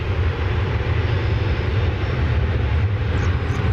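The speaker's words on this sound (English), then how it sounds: "That flight coming in from Puerto Vallarta, Mexico, 737-800, American Flight 2639." An American Airlines Boeing 737-800 arriving at DFW Airport produces a loud, continuous jet engine roar with heavy low rumble that holds steady throughout.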